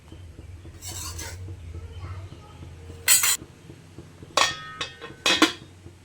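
Lentil dal with potato and tomato is stirred in a cooking pot, giving a few sharp metal clinks and scrapes, then a lid clatters on, amid quiet kitchen background.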